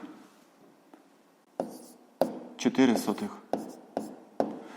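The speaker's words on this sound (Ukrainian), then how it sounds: "пишемо відповідь" A pen writing an answer on paper during a fifth-grade maths exercise, with a series of short scratchy strokes in uneven bursts, close and fairly faint.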